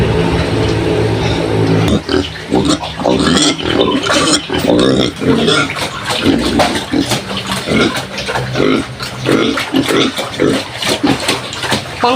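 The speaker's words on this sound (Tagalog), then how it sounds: "Ito yung barako ko." Pigs at a backyard hog farm in the countryside, loud repeated grunts and oinks coming in quick bursts close by, with a wet splashing background and people talking at times.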